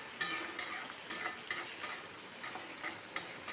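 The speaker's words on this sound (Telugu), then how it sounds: "కొంచెం చూడండి, వేగుతున్నది" Mustard-oil tempering frying in a pan for an eggplant chutney, a quiet steady sizzle with small crackling pops at a regular pace and no talking.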